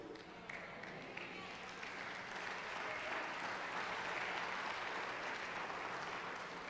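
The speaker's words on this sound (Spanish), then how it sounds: "Ya tú aplaudiste como que todo se acabó." A church congregation breaks into sustained applause during a sermon, a dense, even wash of many hands clapping that holds steady and slightly swells throughout.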